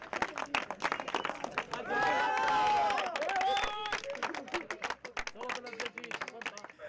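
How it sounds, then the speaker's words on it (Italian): Applause at a karting test day at the Gela kart track: scattered hand claps through the whole clip, with voices and a few bright cheers or whistles mixed in, fairly close. "Avanti, un applauso!"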